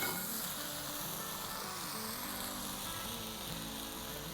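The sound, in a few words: stirring prawns with masala in a pan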